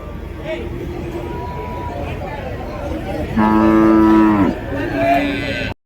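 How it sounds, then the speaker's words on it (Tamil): Cattle at a rural livestock market in Uthangarai moo loudly nearby, one long drawn-out low call and a shorter one after, over a steady background of crowd chatter and someone talking. "சில சூப்பரான மாடுங்க. வயசானாலும் சூப்பராக இருக்குது பாருங்கள்."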